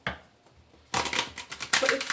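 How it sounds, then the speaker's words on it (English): A quick shuffle of a tarot deck during a card reading: a quiet pause, then a burst of dense riffling and flicking that runs close and fairly loud for over a second, with a few sharper snaps at the end. "One quick shuffle."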